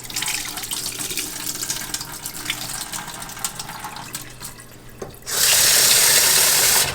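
Rice for jollof rice being washed under a running kitchen tap, a steady broadband water rush with background sounds for the first five seconds, then a louder, close, continuous gush of water until the end.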